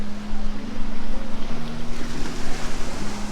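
Surf and wind at Pounders Beach on Oahu, Hawaii, just after a rain shower, heard as a steady, loud wash of waves with a constant low hum running beneath it and no voices.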